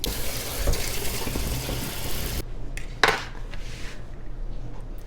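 Pears being washed under a running kitchen tap, water streaming steadily into the sink for a few seconds, then cutting off to quieter handling noises and a brief splash of fruit being moved.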